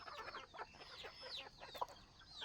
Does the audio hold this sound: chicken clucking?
yes